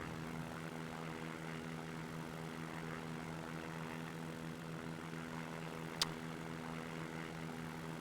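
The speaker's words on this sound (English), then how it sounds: "No, David, this is the default Stinson in X-Plane" A default Stinson propeller airplane's engine in the X-Plane flight simulator drones steadily and faintly throughout, with a single sharp click partway through.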